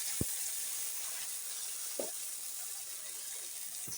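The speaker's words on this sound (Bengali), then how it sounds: "এখন আলু দিয়ে দিব আলুগুলো দিয়ে দিলাম" Potatoes hitting hot oil spiced with black cumin and green chillies in a home kitchen pan: a steady, bright sizzling hiss throughout, broken by three short knocks or clinks.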